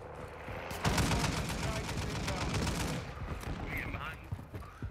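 Rapid automatic gunfire from a machine gun mounted on a vehicle in Call of Duty: Warzone Plunder, dense sustained bursts lasting several seconds with game noise behind and a voice talking over it.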